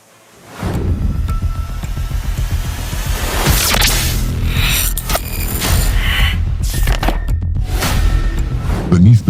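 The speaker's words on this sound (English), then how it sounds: "explosion from the Earth's belly, waiting for sky-high water spikes in Yellowstone." Steamboat Geyser erupting in Yellowstone National Park, a loud rushing roar of water and steam that surges in after a quiet start and keeps churning with gusty, splashing bursts.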